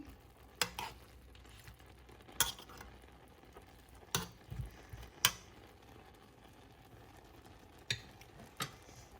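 Instant noodles with egg and dark soy sauce are stirred in a pan, with a handful of sharp scrapes and clinks spaced a second or two apart over a low, quiet background.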